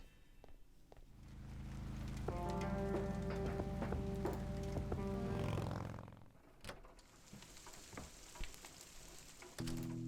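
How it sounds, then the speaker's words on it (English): Steady rain hiss in the adventure game Kathy Rain, continuous under soft musical tones, with a few brief clicks and no voices. "It's constantly raining at the moment."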